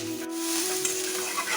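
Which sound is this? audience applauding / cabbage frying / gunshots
cabbage frying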